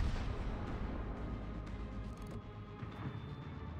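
Rumbling heavy gunfire from a warship's naval broadside in a strategy video game, a dense continuous barrage of deep booms at moderate loudness with no clear gaps between shots.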